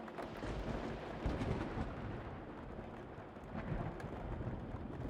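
Heavy rain pours steadily, and low rolls of thunder rumble through it, with no talking.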